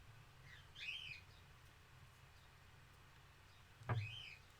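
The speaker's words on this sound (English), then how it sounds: "I can hear birds in my roof." Birds chirp inside a house roof, two short bursts of faint, muffled tweeting separated by a few seconds of quiet room hum.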